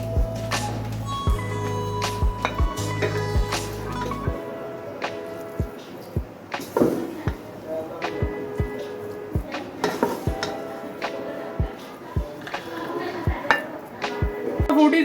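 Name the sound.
dishing out beef qeema karahi into a serving dish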